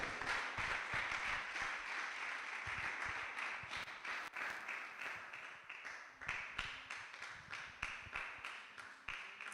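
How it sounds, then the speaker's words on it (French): An audience at a live music show applauds artists arriving on stage, a thick burst of clapping that gradually thins into scattered individual claps toward the end. "on applaudit encore et toujours, jusqu'à ce qu'il s'installe"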